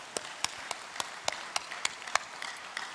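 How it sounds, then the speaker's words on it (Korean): A church congregation claps together during a Sunday service, a steady run of sharp, fairly close hand claps at an even pace, moderately loud with no talking. "우리 하나님께 큰 영광의 박수를 한번 감사하겠습니다"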